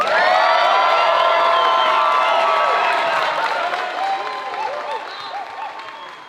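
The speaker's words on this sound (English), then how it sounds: "I want you to give a warm round of applause for Logic" An audience greets the artist Logic with a loud wave of applause and cheering, whoops and shouts riding over dense clapping that slowly fades.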